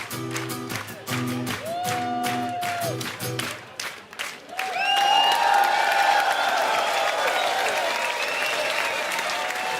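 Live audience applause and cheering after a band's song performance on a Swiss TV show, starting with music fading out then a dense, loud wash of clapping and whoops that builds and sustains.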